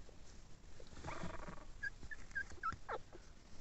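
A young Pinscher puppy makes soft, faint whimpering and growly yips close by, a few short high squeaks standing out over quiet background.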